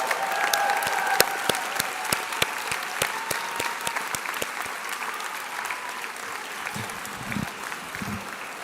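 An audience applauds graduation honorees at a school ceremony, sustained loud clapping from a large crowd that carries on steadily, with a few voices near the end.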